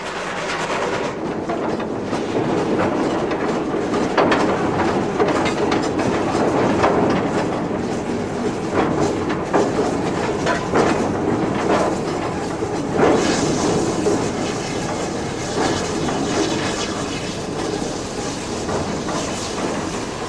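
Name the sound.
GWR steam locomotive City of Truro running on main line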